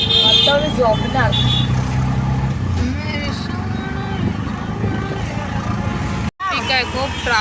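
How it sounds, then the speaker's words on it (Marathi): Busy road traffic heard from inside an auto-rickshaw, with engines rumbling and car horns tooting intermittently, all under people talking close by, with a brief dropout near the end. "खूप ट्रॅफिक आहे"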